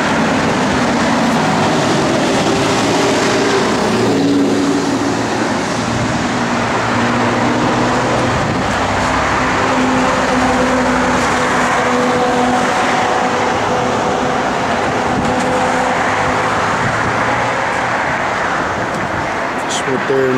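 A 1969 Chevrolet Camaro SS engine runs steadily, a loud low rumble that holds and shifts slightly in pitch, with voices speaking over it.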